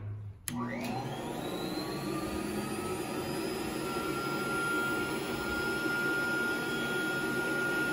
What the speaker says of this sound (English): All right, so right now vacuum is on,